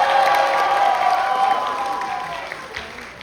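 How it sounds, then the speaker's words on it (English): Audience applause and cheering at a rose pageant as contestants in evening gowns are introduced, a broad crowd wash that starts loud and slowly fades over a few seconds. "Can we get a round of applause for them?"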